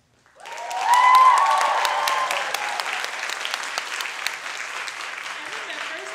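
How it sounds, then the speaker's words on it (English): Applause erupts for dancer Annabelle Lorelei at a student dance show, starting abruptly, swelling to a loud peak and then holding as steady clapping, with brief cheers from the audience. "How about another round of applause for Annabelle Lorelei?"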